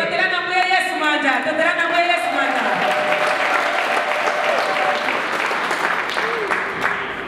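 A church congregation applauds to acclaim the Lord at a gathering in Zambia, a dense, loud, sustained round of clapping from a large crowd, with a voice speaking and singing over it.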